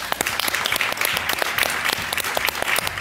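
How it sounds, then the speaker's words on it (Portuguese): A theatre audience at Teatro de Cascais claps throughout a World Theatre Day tribute. The applause is dense and sustained, with many individual claps standing out sharply within the crowd. "Não quero mais aplaudir a Carlos Avilés"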